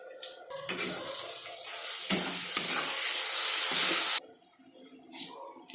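Spices hit hot oil for a chicken curry with a loud, close sizzle that swells for about three and a half seconds, with stirring scrapes through it, then drops to a quieter bubbling fry.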